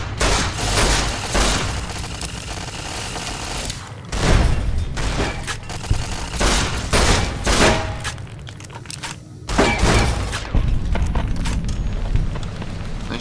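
Game gunfire in Fallout: New Vegas, loud bursts of shots and heavy booms repeating irregularly across the whole stretch with dense battle noise between them.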